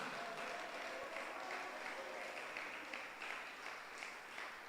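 Church congregation applauding during a sermon, a steady wash of many hands clapping that stays even and fairly loud for the whole stretch, with no voice rising above it.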